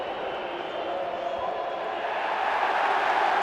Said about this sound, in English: Liverpool fans cheer.